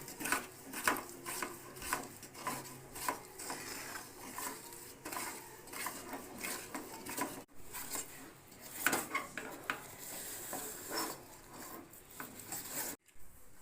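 Gram flour is stirred in a pan for besan laddu, a steady run of close metal spoon scrapes and clinks against the pan that repeat again and again.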